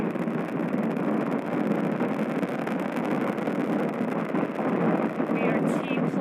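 A steady, dense roar of a Falcon 9 rocket's nine Merlin first-stage engines during the NASA SpaceX Crew-2 launch fills the whole stretch, broad and rumbling with a gusty, wind-like texture and no letup.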